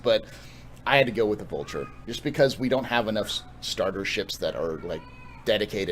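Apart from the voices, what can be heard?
pet cat crying (meowing)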